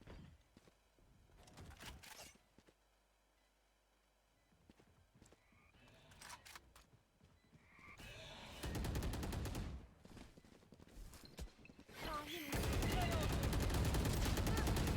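Rapid spraying gunfire in the tactical shooter Valorant after the spike is planted, loud bursts of shots growing dense and sustained toward the end, mixed with other game sounds.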